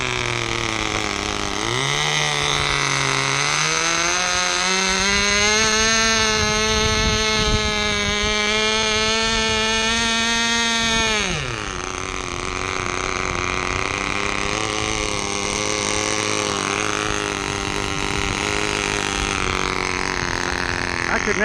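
An AP 061 1/2A glow engine on a Herr Cloud Ranger model airplane runs with a loud, high-pitched buzzing whine that revs up, holds, then drops to a lower steady idle, as someone talks over it.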